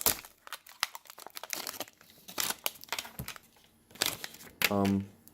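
Old heat shrink wrap being ripped off a battery pack: a series of sharp crinkling, tearing crackles in irregular bursts, close and fairly loud, ending with a longer buzzy rip.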